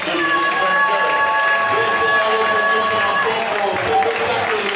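A church congregation applauding and cheering for the Lord, a steady wash of crowd noise and clapping with a sustained tone running through it and voices mixed in.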